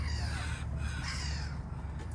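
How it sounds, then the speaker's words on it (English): Crows cawing outdoors at Chester Zoo, a few harsh calls at a moderate distance over a low background rumble. "You can hear the birds, Yeah. outside."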